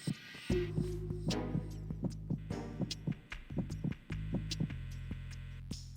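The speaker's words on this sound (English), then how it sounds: "The heartbeat monitor going away." In Metal Gear Solid 2, a heartbeat monitor pulses with steady low throbbing beats over a droning electronic hum, alongside soft game effects, gradually fading away.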